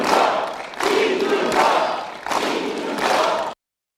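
Large crowd at a political rally in Daegu roaring and cheering in loud repeated surges, four swelling bursts of massed voices shouting together over about three and a half seconds before cutting off.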